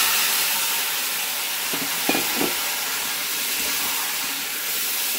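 Five-spice tempering with a dried red chilli and bay leaf frying in hot oil for a vegetable chorchori, a steady broadband sizzle throughout with a few brief crackles and pops, close and fairly loud.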